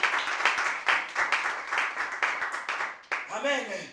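A church congregation clapping in a steady rhythmic beat, loud and close, with a voice rising over the applause near the end.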